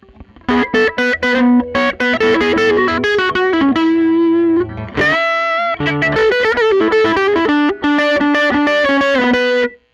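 Loud distorted chords and riffs on a Teye Coyote electric guitar, strummed continuously with a brief pause in the middle, the tone shifting as it is adjusted.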